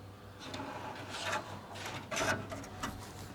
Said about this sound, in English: You'll either depress it or pull it up depending on which side you're on, and that drawer will come out really easily.